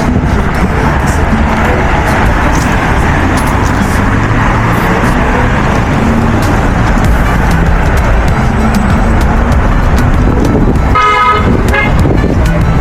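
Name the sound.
city street traffic with car horns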